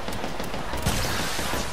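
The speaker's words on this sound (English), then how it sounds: "It's two teams over there shooting me at the same time." Gunfire from two enemy squads in Apex Legends, a dense, continuous rattle of distant and mid-range shots blending into one steady barrage with no talking.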